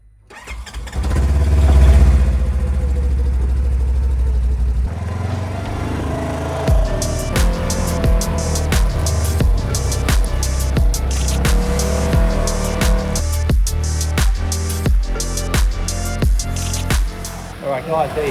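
A Polaris General UTV engine, fitted with a new fuel pump, cranks and catches, then settles into a loud, close running idle with uneven revs and sharp mechanical clatter.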